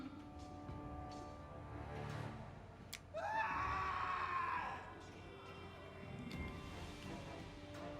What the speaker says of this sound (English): a scream echoes from the hallway.